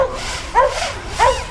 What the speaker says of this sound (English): Sorry about that dog. Always barking.